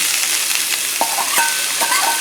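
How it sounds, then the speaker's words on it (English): Garlic and peppers sizzle steadily in a pan, a continuous frying hiss with a few brief stirring scrapes and clicks, close and moderately loud with no talking. "so we have our garlic in there. Alright, yummy, yummy garlic. I'm going to put some peppers in there."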